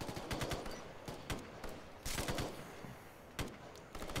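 Assault rifle fire in a Ghost Recon Future Soldier game firefight, heard as rapid bursts of sharp shots with a few louder cracks, close and continuous over a busy battle background.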